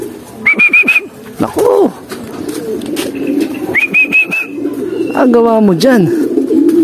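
Racing pigeons coo and call at the loft landing board after a 196 km derby race in Buenavista, Quezon, with repeated throaty coos and whistled notes close by while people talk over them.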